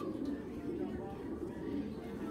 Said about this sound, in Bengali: ও এত বড় সাইজের একটা কবুতর